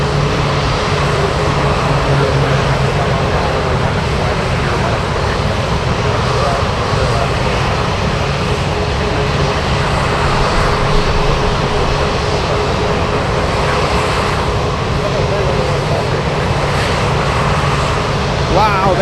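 An airliner touches down in strong, gusty crosswind at Anchorage, producing a loud, steady engine roar and rumble that persists throughout, with a voice faintly underneath.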